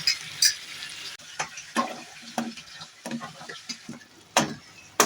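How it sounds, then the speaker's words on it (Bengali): Tomatoes and spice masala cook in a pan with cashew paste for chicken dopiaza, giving a soft sizzle broken by repeated scraping stirs of a spoon against the pan, close and fairly quiet, with no talking. "ভালো করে টমেটো এবং মশলাগুলো একসাথে ভালো করে কুক করে নিচ্ছি"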